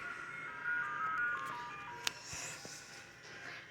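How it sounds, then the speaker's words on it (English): A faint ice cream truck melody plays from a distance as a thin, stepping electronic tune, with a couple of soft clicks and a sudden louder noise at the very end. "It's the ice cream truck."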